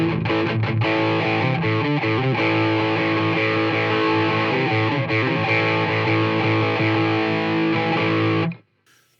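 Electric guitar played through a NuX Steel Singer Dumble-style pedal at maximum gain, thick distorted hard-rock chords ringing loud and sustained for about eight seconds before cutting off abruptly.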